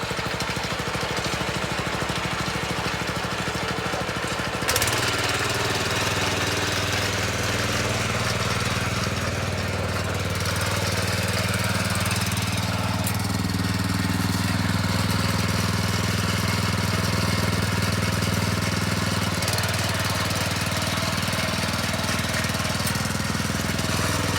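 A Kaan 250 S 7 HP petrol automatic tiller runs steadily up close, its engine note shifting and deepening after a few seconds as it is put in forward gear and rolls slowly into a garden, with a continuous loud chugging drone throughout.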